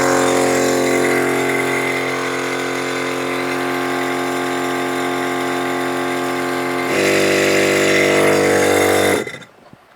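12V air compressor inflating a tyre from 18 to 38 psi, a loud steady droning motor running nonstop close by, its tone shifting and growing louder near the end before it shuts off abruptly.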